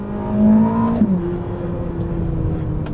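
A Ferrari 849 Testarossa hybrid accelerates hard, its engine note rising in a smooth, loud, close whine-like surge that dips briefly as it shifts and then keeps pulling steadily.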